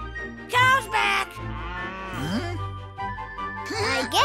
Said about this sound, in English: We got all the cows back onto your farm.